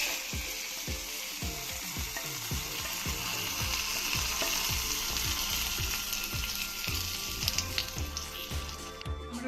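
Hot oil tempering with curry leaves sizzles and crackles loudly as it is poured into a Kerala-style pumpkin tamarind curry, a continuous fry with rapid popping and clicking spatters, close and without talk.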